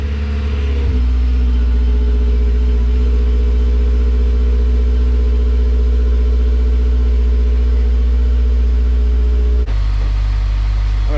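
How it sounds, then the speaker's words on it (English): A car engine idles on a cold start after a new clutch install, a loud steady low hum with a constant tone and a slight shift in pitch near the end, without talking. "So we'll do a little first startup with the new clutch"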